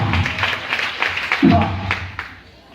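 A church congregation applauding and cheering for the Lord, a continuous dense wash of clapping and voices at close range that fades near the end.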